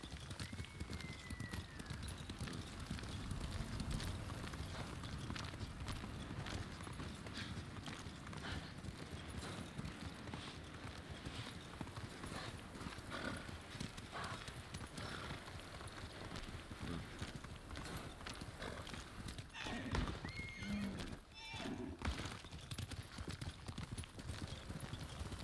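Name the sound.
horse galloping and neighing in Ghost of Tsushima video game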